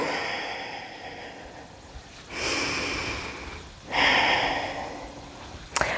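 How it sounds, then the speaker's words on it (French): Two slow, deep breaths during a yoga session: a long airy inhale followed by an even exhale, close and soft, with a brief sharp sniff near the end. "Inspire tranquillement, expire tranquillement"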